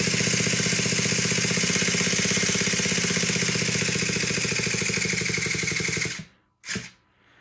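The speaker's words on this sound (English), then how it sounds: "the engine's sitting and spinning, so my battery's getting weak" The 3.3 nitro engine of a Traxxas T-Maxx RC truck buzzes at a rapid, steady rate for several seconds, then cuts out abruptly, with one brief sputter before going quiet.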